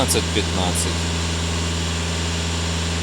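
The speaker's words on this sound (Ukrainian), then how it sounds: "двигун працює в ідеалі" A 2.0 TDI diesel engine in a VW Passat B8 4×4 idles with a steady low hum and faint rattle, while a few brief voices and clicks sound over it at the start.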